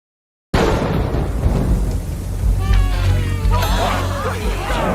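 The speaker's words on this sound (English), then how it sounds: "but the rain comes in all of a sudden." A sudden rainstorm with thunder in an animated Velma episode, a loud steady wash of rain with low rumbling, heavy throughout after an abrupt start, with excited voices and shouts over it.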